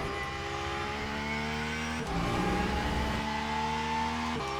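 A Porsche race car engine in Le Mans Ultimate, droning loud and steady with strong harmonics and a brief dip and surge between gears, heard close with no talk over it.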